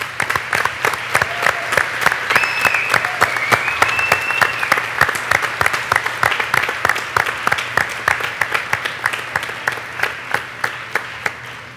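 A large audience at a children's rights panel before the Inter-American Court of Human Rights gives loud, warm, sustained applause, dense steady clapping that ends in a few distinct claps.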